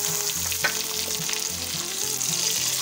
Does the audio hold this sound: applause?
no